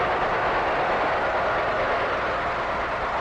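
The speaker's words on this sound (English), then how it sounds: "the whistle of the Tokyo Express." Tokyo Express train passing in an old 1941 film, a steady, dense rumble of wheels and carriages that holds at an even level throughout, with a muffled, noisy quality.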